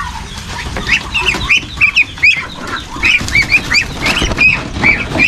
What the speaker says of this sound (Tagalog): Yung mga pabo.